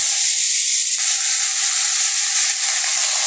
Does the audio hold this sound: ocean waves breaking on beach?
no